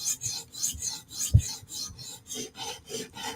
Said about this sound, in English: we're kind of grinding out the bevel where the repair was, where we did that steeper angle